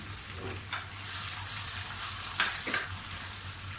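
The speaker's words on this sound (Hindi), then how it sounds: "लहसुन अदरक का पेस्ट थोड़ा सा फ्राई करके" Close, even sizzling of garlic ginger paste frying in a pan, with a couple of brief scraping stir sounds. No speech.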